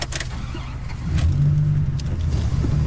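A sports car, driven hard down the middle of the road, accelerates with a loud, steady low engine roar that swells and holds after the first second.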